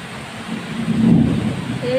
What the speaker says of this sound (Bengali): ওই যে দেখছেন কিভাবে ঠাটা পড়তেছে